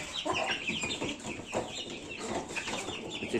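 Several chickens cluck and chatter together in a busy, continuous flock, fairly close and steady throughout.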